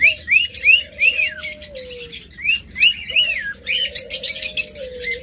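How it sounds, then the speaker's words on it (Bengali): Pet birds such as lovebirds, budgerigars and cockatiels chirp and whistle close by, with repeated bright chirps over long drawn-out whistles. "এটা খুব সুন্দর শীষ বাজায়, আপনার শীষ দিলে সাথে সাথে শীষ দিবে।"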